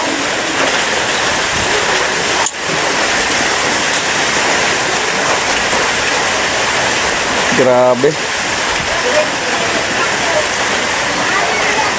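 Heavy typhoon rain pours steadily and loudly in a dense, unbroken roar, with a single short spoken exclamation and a brief rattling knock partway through.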